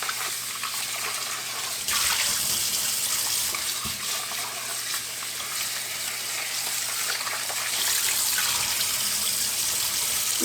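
Chicken rinsed under a running kitchen tap, a steady close splash of water that swells and thins as the meat is turned, with no talking.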